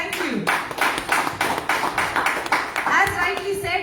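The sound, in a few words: audience applause at a product launch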